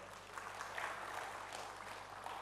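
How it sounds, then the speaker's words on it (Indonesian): Congregation clapping during a church service at GBI Asemtiga in Tegal, a continuous wash of many hands applauding, fairly faint and even, with no voices over it. "Mari berikan tepuk tangan dulu bagi Tuhan."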